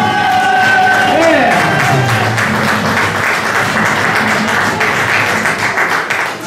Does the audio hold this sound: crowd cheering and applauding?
yes